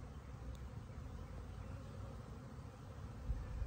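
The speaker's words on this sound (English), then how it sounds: "it's just the bees coming to life" A low, continuous insect drone of many honeybees buzzing together at the hive in mid-March, steady and close with no voices.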